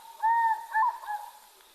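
An owl-like bird hoots in the African bush, two clear wavering calls followed by a softer third, close and alone with no other sound.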